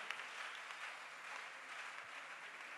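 Seated church congregation applauding, a steady dense wash of clapping from many hands, even and sustained throughout, heard at a distance.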